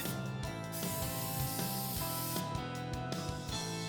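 Krylon black lacquer spray paint hissing from an aerosol can onto a skull, a steady close spray running nearly continuously with brief pauses.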